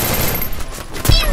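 Shotgun fire in the Free Fire battle royale game, a short burst of loud, close gunshots over busy in-game noise, with one heavy blast near the end.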